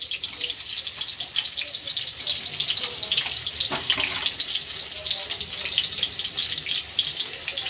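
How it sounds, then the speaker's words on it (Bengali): Water with oil and salt bubbles at a rolling boil in a pot before rice goes in, a busy crackling hiss with a brief surge of gushing partway through and no clear voices. "জলটা দেখো টকবক করে ফুটে গেছে তেল আর নুন দিয়ে"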